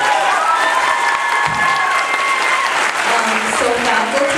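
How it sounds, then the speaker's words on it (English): Steady audience applause fills a school skit night, a dense, continuous wash of clapping from a crowd with a few cheers and voices mixed in, loud and sustained throughout. "let's give another round of applause to the board"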